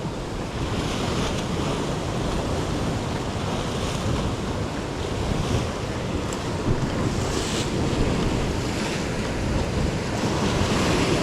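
Sea waves crashing against the shore and throwing spray up like a fountain, a continuous loud rushing surf with gusty wind noise on the microphone.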